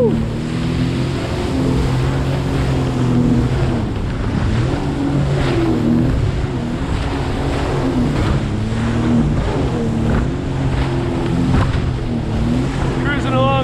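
A motorboat cruises at 24 miles an hour off West Palm Beach, its engine a loud, steady drone with wavering pitch over constant water rush and hull slap, with a voice now and then.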